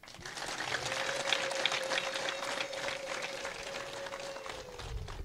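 An audience applauds at a community meeting in Gasayo, Nyamasheke, with sustained, fairly loud clapping throughout and a faint held tone running beneath much of it.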